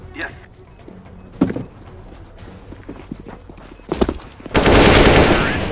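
Gunfire from Counter-Strike: Global Offensive: scattered shot-like bursts early, then a loud, dense sustained burst of automatic fire near the end. Game audio sits under light background noise.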